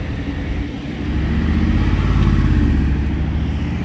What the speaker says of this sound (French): Entendu un V12 arriver, ça sonne bien.